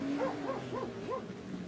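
A dog in the video game GTA V gives four quick, rising-and-falling barks or whines in a short rhythmic series, fairly faint against a low background hum.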